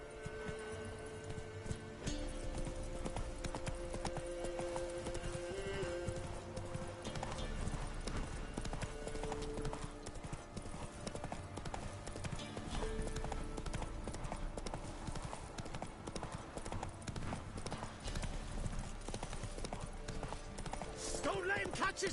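Rhythmic galloping hooves of Roach, a horse in The Witcher 3 video game, pound steadily throughout alongside game music and occasional voices.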